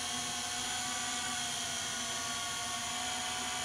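A Syma X8C quadcopter drone hovering in normal flight mode on a breezy day gives off a steady, high, whining rotor buzz with layered harmonic tones, constant and unbroken, with no voices.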